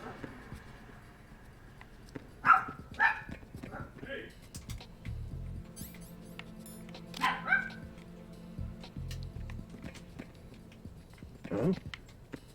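A dog indoors barks a few times in short separate bursts, faint and somewhat distant, over low background noise with occasional knocking.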